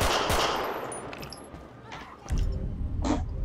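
Video game gunfire, a rattling burst of automatic fire early on, then renewed louder shots near the end, with some voice mixed in.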